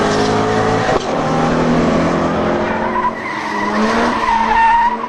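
A Mazda RX-7 doing a big burnout, its rotary engine roaring steadily with screeching tire squeal throughout, loud and close, with the engine pitch rising toward the end.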